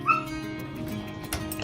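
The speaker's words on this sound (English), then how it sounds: "And I let the dogs out and they run around and chase each other and play." Several dogs waiting at a back door whimper and yip with high-pitched whines and short excited barks, fairly close and continuous over a low background hum.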